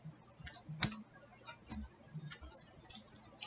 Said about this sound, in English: Cutting the deck.